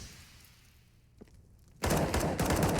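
A USP pistol fires during a Counter-Strike: Global Offensive pro match on Mirage. A faint isolated shot comes first, then a sudden loud, sustained burst of rapid gunfire.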